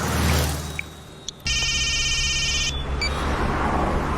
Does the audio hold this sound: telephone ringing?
yes